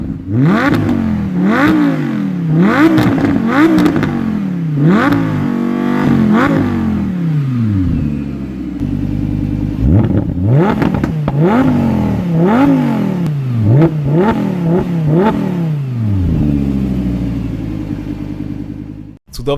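Lamborghini Huracan LP 610-4 Spyder with a 5.2 V10 and optional sport exhaust, revving repeatedly in sharp rising and falling bursts, loud and close, with a brief lull midway before more throttle blips.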